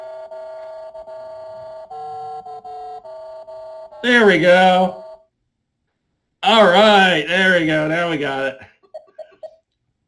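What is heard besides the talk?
TRS-80 adventure video game sound effects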